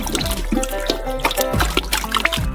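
A gelatin mixture is stirred in a saucepan, giving loud, close liquid swishing and sloshing with a few rhythmic strokes over about two seconds.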